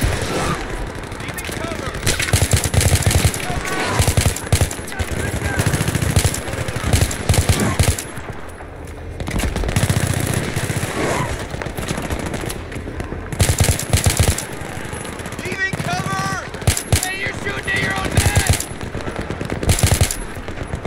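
Automatic gunfire from an enemy in the Battlefield 3 campaign comes in repeated loud, rapid bursts and single cracks, with short lulls between volleys and game sounds mixed in.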